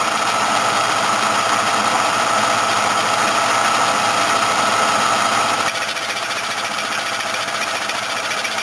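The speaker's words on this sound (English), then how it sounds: "just going to turn the machine on, throw the feed lever, and what's happening here is the bar itself is actually moving down into the cylinder." A cylinder boring machine feeds its cutting bar down into an engine cylinder, giving a steady, close mechanical hum and grinding whir with no talk, dropping slightly in level partway through.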